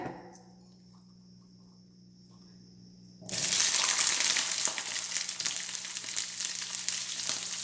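Spices dry-roasting in a small kadai on a stove, a sudden onset of bright, dense crackling sizzle that continues steadily after a quiet start, close and moderately loud with no talking.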